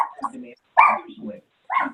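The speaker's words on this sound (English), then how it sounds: "It's just a dog wants to be on the call." A dog barks in several sharp bursts during an online call, loud and close, with a person's voice mixed in around the barks.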